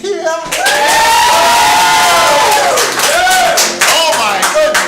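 A theater audience at an improvised Broadway-style musical show bursts into loud, sustained clapping and cheering, with whoops and shouts rising over the applause throughout.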